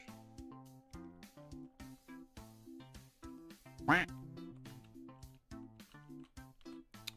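A single loud cartoonish quack rises above a busy electronic game soundtrack with steady beats and melodic tones.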